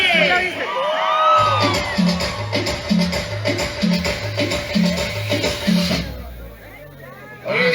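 Festival crowd at a Juquila virgin anniversary celebration in El Carmen Tequexquitla shouting together on cue, over a loud pounding sound-system beat with an announcer's voice and bursts of cheering.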